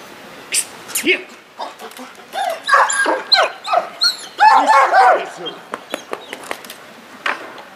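Service dog barking repeatedly during a security-service demonstration, sharp barks and yips in bursts, close and loud, with a handler's voice speaking in between.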